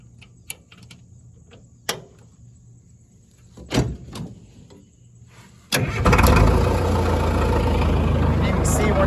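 A Caterpillar 922 wheel loader: a few clicks and clunks, then the engine cranks and catches at about six seconds, settling into a loud, steady diesel idle up close.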